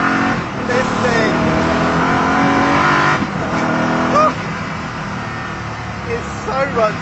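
A Koenigsegg Agera supercar engine revs loud and raw, rising and falling in surges across the clip, with a voice talking over the engine noise.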